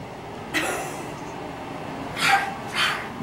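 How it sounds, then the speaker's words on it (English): A shut-in dog barks three times, once alone and then two in quick succession, muffled and somewhat distant over a low background hum. "She is barking."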